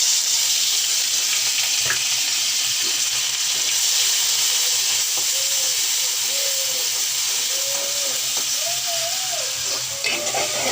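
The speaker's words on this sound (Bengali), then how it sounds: "তেল গরম হয়ে গেছে, দিয়ে দিলাম পেঁয়াজ বাটা।" Onion paste sizzles hard in hot oil, a steady loud frying hiss running the whole time with light steam and a few faint clinks, no voices.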